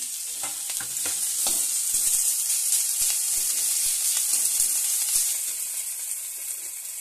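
Chopped garlic and ginger paste frying in hot oil in a pan, a steady loud sizzle with a few stirring clicks, continuous and close throughout.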